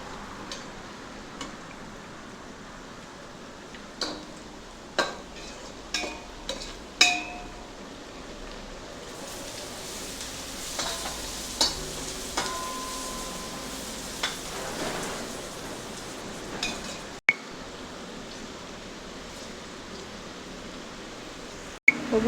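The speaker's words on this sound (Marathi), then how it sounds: "बघू शकता आपली कोळंबी शिजत आली आहे." Prawns cook in a pan for a spicy prawn biryani, with a soft continuous sizzle and bubbling gravy punctuated by scattered sharp ticks and utensil clinks nearby.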